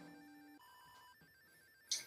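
A phone not set to vibrate rings quietly nearby: a faint electronic ringtone of sustained tones stepping in pitch, ending in a short burst of noise.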